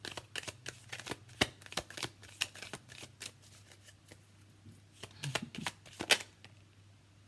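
Tarot cards are shuffled close up in a run of crisp flicks and riffles, with louder snaps as cards are drawn, over a quiet low hum and no talk.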